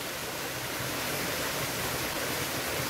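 A waterfall in the woods gives a steady, full rushing hiss that stays even throughout, close and loud, with no voices.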